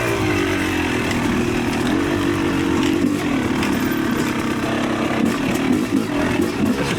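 A Yamaha YZ300 two-stroke dirt bike engine buzzes loudly and close while being ridden, its raspy drone rising and dipping steadily with the throttle.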